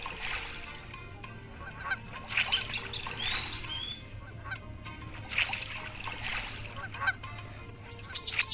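Geese honk repeatedly in short, nasal bursts in the mobile game Meena 2, several calls spaced across the stretch over a steady low game hum, with a thin high tone near the end.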